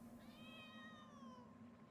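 A single drawn-out cat meow from the video game Genshin Impact rises and then falls over about a second, faint and set over a low, steady game background hum.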